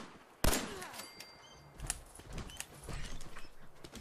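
A single sharp gunshot headshot in Fallout 4, loud and abrupt, followed by quieter game clatter and ambient effects.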